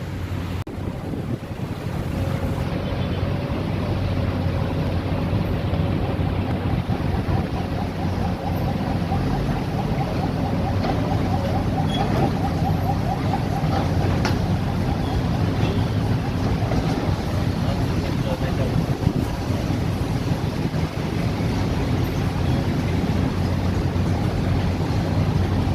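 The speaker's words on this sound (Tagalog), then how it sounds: "ang lakas ng hangin dito sa taas" Strong wind buffets the microphone high up at a subway station construction site on Quezon Avenue, Metro Manila, a steady loud roar and rumble lasting throughout with no talk.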